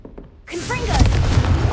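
Confringo fire spell from Hogwarts Legacy erupts after a quiet lead-in, a sudden booming blast with crackling fiery whooshes and rising tones that sustain loudly to the end.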